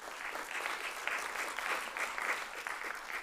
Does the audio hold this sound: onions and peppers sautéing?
no